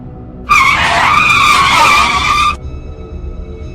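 A car brakes hard and its tires let out a loud, harsh skid lasting about two seconds, then cut off to a low idle, in an animated cartoon.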